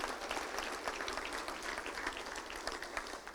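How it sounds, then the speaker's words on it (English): Audience applause for volunteers at a Little Rock Touchdown Club luncheon, a steady, dense patter of many hands clapping close by throughout, with no talk over it. "Let's give them a round of applause, if you will."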